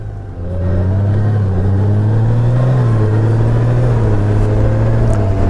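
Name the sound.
2020 Honda Gold Wing motorcycle riding and shifting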